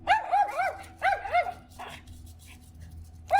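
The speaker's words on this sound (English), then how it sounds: "this little dog could see that he got this dog to move away because of his barking" A small dog, a Miniature Schnauzer, barks in quick sharp bursts: a pair of rapid yaps, another short volley, then a single bark after a pause, all close and loud.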